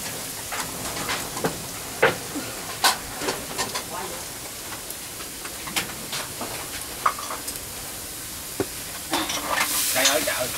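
Garlic sizzles in a pan for green snails cooked with fermented tofu, with steady frying hiss, scattered crackles and pops, and stirring scrapes up close in a busy outdoor kitchen.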